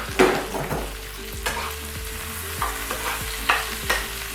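Onion and garlic frying in a pan, with a steady sizzle under a series of clinking stirs and scrapes spaced about half a second apart, close and moderately loud, with no talking.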